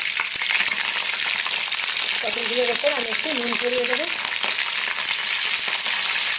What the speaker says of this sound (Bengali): তেল গরম হয়ে গেছে, আমি এর মধ্যে পটল দিয়ে একটু ভালো করে ভেজে নেব।